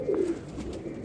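Pigeon of a Qasori Lakha breed, kept by a pigeon fancier in Multan, giving a single close, soft, throaty coo.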